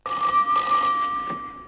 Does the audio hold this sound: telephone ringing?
yes